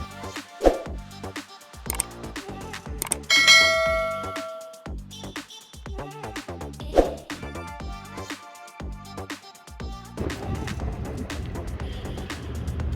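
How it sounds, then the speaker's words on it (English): Bright metallic bell and ding tones ring out in bursts with a few sharp clangs, moving into a denser, busier jingle toward the end, with no voices. "hit the notification bell"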